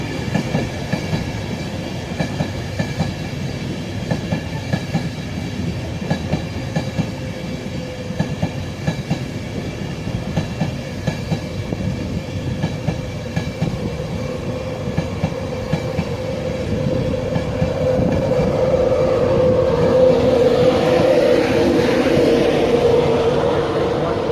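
Train 153384 departs Peterborough station on the East Coast Main Line, its wheels clicking rhythmically over rail joints before the engine noise swells loud and close toward the end, with no one talking.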